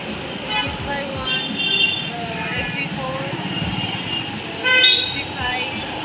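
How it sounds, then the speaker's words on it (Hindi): Busy road traffic at a city bus stop in Behala, with short car and bus horn toots sounding here and there over a constant rumble of passing vehicles while someone talks nearby. "गाड़ियों की आवाज़ आ रही होगी"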